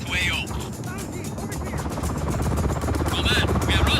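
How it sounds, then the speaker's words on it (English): Helicopter in the video game Just Cause 4, a steady low rotor and engine rumble that holds loud throughout, with game voices and radio chatter over it. "Helicopter inbound. Heading to AO."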